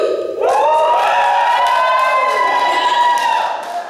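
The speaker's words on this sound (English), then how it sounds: "can I hear a little woo?" A circus theatre audience shouts a long, loud, rising "woo" together, swelling in at once and holding steady for several seconds before easing slightly.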